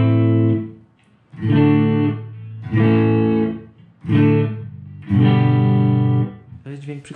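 An electric guitar played through a Vox Adio Air GT amplifier rings out in loud, sustained distorted chords, with several phrases separated by short pauses.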